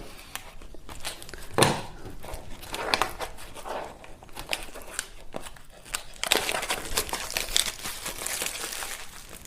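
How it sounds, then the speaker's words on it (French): Packaging crinkles and rustles as a box of Aukey tech gear is cut open with a knife, a steady close run of crackly handling noises with a sharper burst near the start and denser crinkling toward the end. "Donc on va prendre le couteau. Et on va déballer tout ça gentiment."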